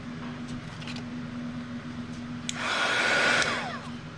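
A heat tool melting embossing powder blows with a steady whooshing roar that switches on partway through and holds for about a second and a half before easing off, following quieter room noise.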